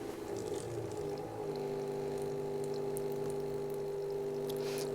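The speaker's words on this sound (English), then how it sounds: "You can then turn the pump on again." A pump on a buffer filler system cycles distilled water, running as a steady, close mechanical hum with a low motor drone and faint liquid sounds throughout, with no talking.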